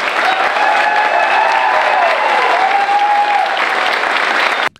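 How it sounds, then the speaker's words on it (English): Sustained applause fills the room at a United States citizenship ceremony as new citizens are congratulated, a dense steady clapping from a large gathering that continues for several seconds before cutting off abruptly. "The ceremony ended with applause and smiles across the room"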